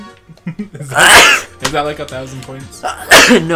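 A person sneezes loudly and close by twice, about two seconds apart, while friends chat casually around a video game session.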